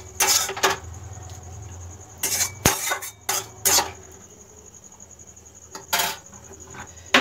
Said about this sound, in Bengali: এর মধ্যে এবার আমি ডিমগুলোকে মিশিয়ে দিলাম